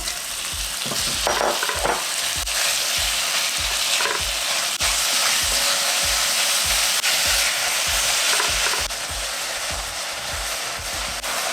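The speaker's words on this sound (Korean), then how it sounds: "고추기름 2수저를 넣으시고 양파와 고기를 먼저 볶아줍니다" Onion and meat stir-frying in chili oil in a hot pan, giving a loud, continuous sizzle close by with a steady series of low scraping and tossing thumps from the utensil throughout.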